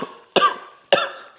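Two sharp, loud coughs from one person about half a second apart, each trailing off briefly, with nothing else around them.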